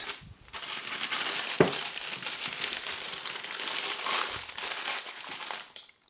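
Grease-proof paper crinkling and crumpling as soft, pliable Bakewell tart dough is wrapped in it, a steady close rustle with a few sharper crackles, no talk.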